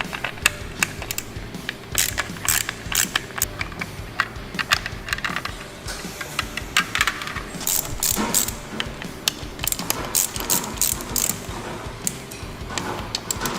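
A ratchet clicks in quick, irregular bursts while removing the air cleaner from a Harley-Davidson Sportster, close and sharp, the rapid pawl ticks repeating throughout.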